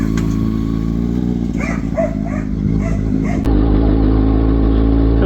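Warmed-up 2009-2012 Kawasaki ZX6R sport bike engine idling nearby with a steady low drone, while a dog barks several times over it and the idle note shifts near the end.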